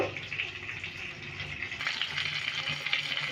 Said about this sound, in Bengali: এবার এটাকেও ফ্রাই করে নেব